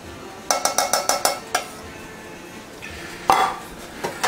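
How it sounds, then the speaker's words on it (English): A spoon stirs tomato soup into cooked hamburger meat in a metal pot for macaroni goulash, a quick run of rhythmic clinks against the pot followed by a few scattered scrapes and taps, close and without talk. "we're just going to take our tomato soup, mix it all in with our hamburger"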